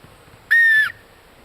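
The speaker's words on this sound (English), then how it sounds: "there's a whistle." One loud, sharp whistle blast, steady and piercing for about half a second, then silence.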